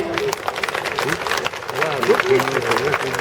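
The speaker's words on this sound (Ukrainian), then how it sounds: "Вітайте, друзі, оплесками." Festival crowd applause at Lviv KlezFest 2017 welcoming a Slovak klezmer band, a steady spread of hand clapping with voices and cheering mixed in.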